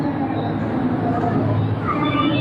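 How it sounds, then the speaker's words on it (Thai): A BTS Skytrain runs past near Siam at the busy Pathumwan intersection in Bangkok, a continuous rail rumble with faint wheel noise under city ambience. "รถไฟวิ่ง รถไฟ BTS"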